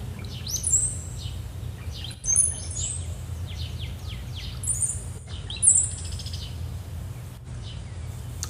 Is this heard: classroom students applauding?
no